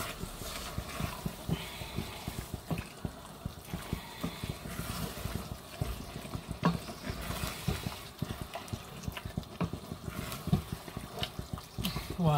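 Beef stew with onions being stirred in a pot: irregular wet scraping and clacking of a spoon against the pan with soft bubbling, moderately close, with a little talking in the background.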